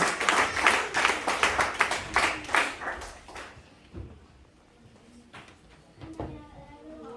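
A church congregation applauds loudly with rapid clapping for about three and a half seconds, then the hall falls quiet with a few faint voices and light sounds.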